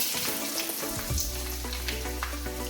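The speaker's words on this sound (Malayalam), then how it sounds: "ആദ്യം വെളിച്ചെണ്ണ ഒഴിച്ചു കടുക് ഇട്ടു കടുക് ഇട്ടതിന് ശേഷം ഉണക്കമുളക് ഇടാം" Mustard seeds and dried red chillies fry in hot coconut oil with a loud, close sizzle and crackling, the hiss swelling as ingredients hit the pan.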